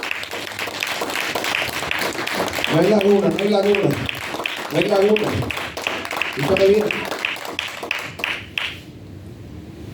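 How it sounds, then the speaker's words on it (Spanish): A church congregation applauds during a Spanish-language service, steady clapping running throughout while a preacher speaks loudly over it before it tapers off. "Da un aplauso al Señor."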